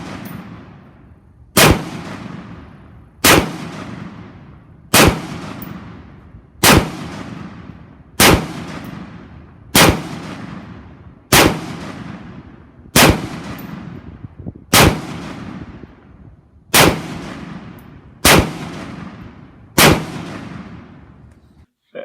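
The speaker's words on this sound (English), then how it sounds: "we're going to take this to the range and we're going to fire a few rounds" A DSA Arms War Hammer rifle fires single rounds at an outdoor range, thirteen sharp, loud reports spaced evenly about every one and a half seconds, each trailing off in a rolling echo.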